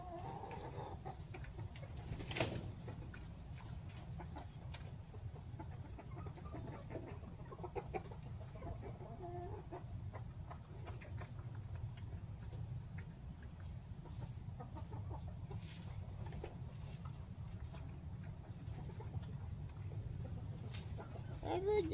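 Chickens cluck around a farmyard feeding area where the ground is swept before feed is scattered, soft continuous clucking over a steady background hum and broom noise.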